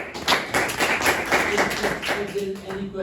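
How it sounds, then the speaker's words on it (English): Classroom applause for a student during a linear algebra lesson, several people clapping in an uneven patter for a few seconds, with a voice speaking over the end. "Clapping for Hamza"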